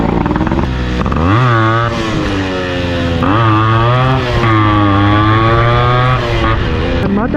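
A 1990s Yamaha RX135 two-stroke motorcycle engine revs hard and close, rising and falling in repeated throttle blips with a loud, buzzing exhaust note throughout.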